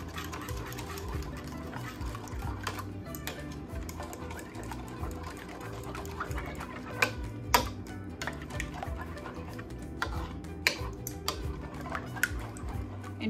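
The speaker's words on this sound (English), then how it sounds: "Now I'll be mixing it nicely." Egg mixture seasoned with salt and black pepper being whisked by hand in a bowl for a stuffed omelette, a steady run of quick close ticking and clinking strokes with no talk.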